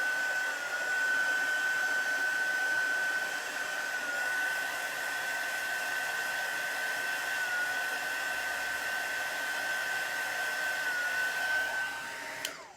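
A heat tool blows hot air to dry chalk paste on a stenciled board, a steady loud whining hum with a high tone that holds for about twelve seconds and then cuts off, with no talking.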